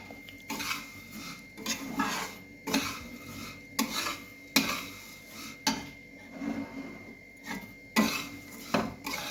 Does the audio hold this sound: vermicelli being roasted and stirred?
yes